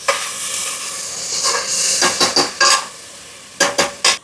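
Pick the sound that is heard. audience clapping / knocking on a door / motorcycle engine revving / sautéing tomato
sautéing tomato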